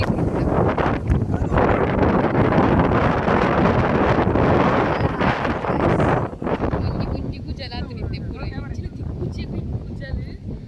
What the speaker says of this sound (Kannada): ಫುಲ್ ಗಾಳಿ